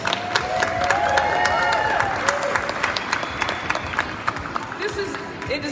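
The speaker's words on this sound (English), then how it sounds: "can we just give our models a round of applause?" A fashion show audience breaks into sustained applause for the models, with dense clapping and some cheering from a crowd filling the room, holding steady before gradually thinning out.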